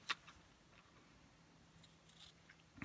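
Scissors snip through fabric being cut for doll underwear: a few faint, crisp snips at the start and end with a quieter one partway through, close but soft, and no speech.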